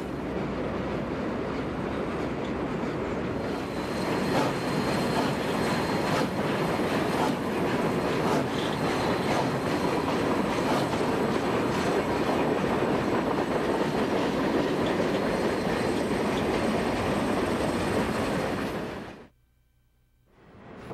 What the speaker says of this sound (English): Here we are paralleling a train on the Burlington Northern and Santa Fe's Old Fort Worth and Denver line